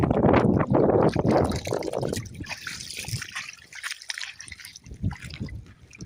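Water trickles and splashes continuously, louder at first and then settling into a softer, steady flow.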